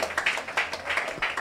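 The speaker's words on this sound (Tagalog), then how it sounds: "Bigyan natin ng malakas sa palakpak sa ang ating Panginoon." Church congregation clapping together, a fairly steady patter of many hands at moderate volume, heard briefly with no talk over it.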